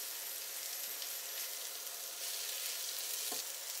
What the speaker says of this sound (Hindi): उसे भी हमें हाई फ्लेम पे ही चलाना है।